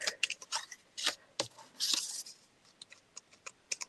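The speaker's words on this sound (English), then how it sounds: "I'm just using scissors to cut that off" Scissors snip and crunch through paper close by, cutting off card tags, a run of quick irregular cuts and rustles, fairly soft, with no talking.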